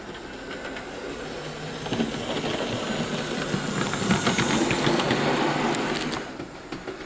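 A Hornby LNER Class J15 model locomotive runs smoothly along its track, giving a steady, fairly quiet whirring and rolling hiss that swells slightly midway and then eases off, with no voices.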